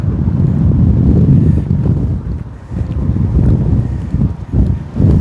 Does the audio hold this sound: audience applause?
no